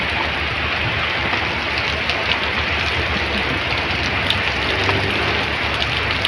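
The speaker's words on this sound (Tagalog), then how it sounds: "Lagi na lang malakas ng ulan." Steady, dense downpour hissing continuously on surfaces, loud and unbroken, with no voices.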